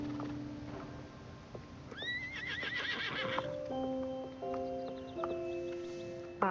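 A horse whinnies once in a rising, shrill call, close by in a stable setting, amid steady background hum and scattered tonal noises.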